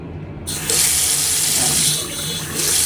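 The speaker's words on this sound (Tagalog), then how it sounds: "Bubuksan ko yung tubig." A faucet is turned on after a short quiet moment and water runs steadily into a sink, a bright, loud rushing spray that surges fuller a moment later and keeps flowing close by.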